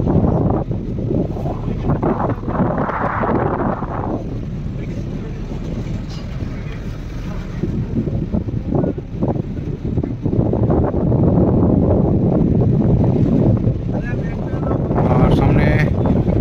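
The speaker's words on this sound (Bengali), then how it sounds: "আমাদের বোট এখন গোসাবার দিকে যাচ্ছে।" A personal boat cruises along a Sundarbans river toward Gosaba, its engine a constant low rumble mixed with heavy wind buffeting the microphone, loud and continuous for the whole stretch, with a person talking over it at times.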